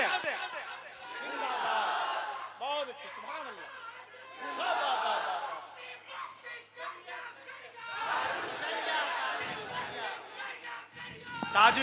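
A crowd at a religious gathering shouts a loud call-and-response in unison, several bursts of massed voices rising and falling across the stretch, with a lone speaker's voice in between.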